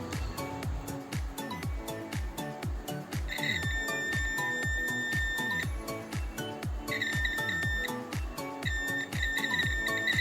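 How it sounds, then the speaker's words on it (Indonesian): A continuity tester's buzzer sounds while a blown-or-good fuse from an electric fan is checked, giving two steady high-pitched electronic tones of about two seconds and one second over continuous rhythmic background music. "jika buzzer ini aktif, maka fuse tersebut masih normal."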